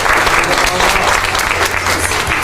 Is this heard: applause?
yes